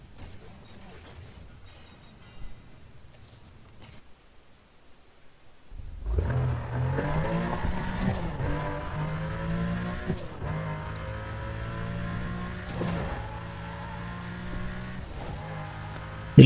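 Race car engine in NFS Most Wanted surges in, revving hard and climbing through gears at high speed, loud and sustained after a quiet opening with faint background sound.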